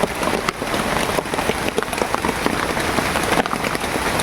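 Heavy rain pelts a makeshift shelter outdoors, a dense continuous patter with occasional louder drops, close and loud throughout, no voices.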